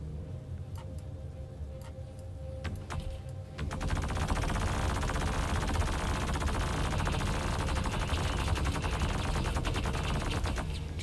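Rapid sustained gunfire in the space game Star Citizen: a few scattered ticks first, then a dense unbroken automatic rattle that runs loud and continuous to the end.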